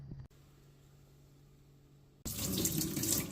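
Tap water suddenly gushes into a bowl of soaked, peeled beans being rinsed for bean cake (moi-moi), a loud steady splashing rush after a quiet start.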